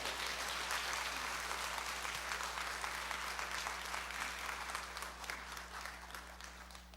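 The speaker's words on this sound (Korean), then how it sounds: "이때 박수 쳐, 박수." An audience applauding at a church testimony gathering, with dense, steady clapping from many hands that carries on for several seconds at an even level over a low background hum.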